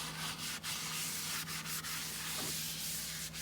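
Steady abrasive scrubbing of a cast iron sink with Bar Keepers Friend powder cleaner, a close, continuous rasping rub with brief pauses between strokes and no talking.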